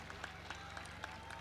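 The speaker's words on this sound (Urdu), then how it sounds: "ان سب کے لیے بھرپور تالیاں ہو جائیں جو سارے اپنے اسکولوں سے آئے ہیں" Students applaud at an outdoor tree-planting ceremony, scattered claps sounding at a steady pace over a low, constant background hum, fairly faint and distant.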